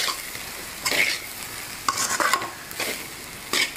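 A spatula scrapes and tosses rice through vegetable fried rice in a pan over low flame, with four or five distinct stirring strokes over a quiet background sizzle and no talk.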